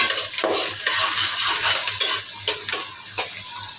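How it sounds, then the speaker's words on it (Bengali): Chopped onions fry in hot oil in a wok, a loud, steady sizzle broken by stirring scrapes and clinks of a utensil against the pan, with no voices. "এখন পেঁয়াজ কুচিটাকে ভালো করে ভেজে নিব।"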